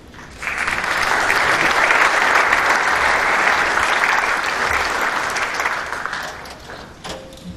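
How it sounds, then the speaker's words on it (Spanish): A crowd claps loudly and steadily for several seconds, then the applause fades out, leaving a brief quiet tail. "al cual le pido un aplauso"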